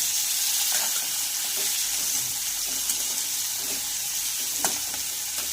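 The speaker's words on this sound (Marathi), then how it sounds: "त्यानंतर आपण यामध्ये हे बाकीचे जिन्नस घालूया आणि याला सुद्धा हलकसं आपल्याला फ्राय करून घ्यायचं आहे।" Dried red chillies and other ingredients frying lightly in a pan for sabudana khichdi, a steady bright sizzle with occasional soft clicks of stirring, continuous and fairly close.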